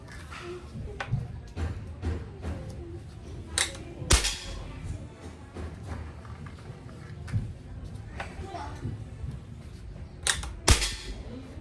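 An SPMC CO2 airgun, pumped with a PCP hand pump, fires a few sharp, loud cracks spaced several seconds apart, with quieter handling clicks and faint background noise between shots.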